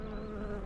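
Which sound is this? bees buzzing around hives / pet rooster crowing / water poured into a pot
bees buzzing around hives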